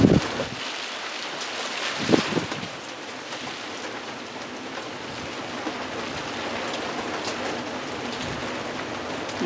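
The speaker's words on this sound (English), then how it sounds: "see how much rain is coming in there now" Rain patters steadily on a tarp at a back step, a dense continuous hiss of drops with a brief louder burst of splashing early on, no voices.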